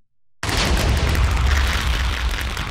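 After a brief silence, a video game explosion erupts as a sudden loud blast followed by a sustained, rumbling roar of debris and fire.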